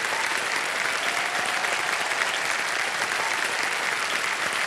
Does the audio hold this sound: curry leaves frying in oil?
no